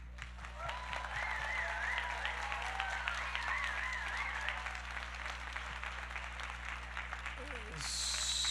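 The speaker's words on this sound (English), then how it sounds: "Just give yourselves a round of applause" A crowd at a student union general meeting applauds in a steady patter over a constant electrical hum, with a few whistle-like tones rising above the clapping.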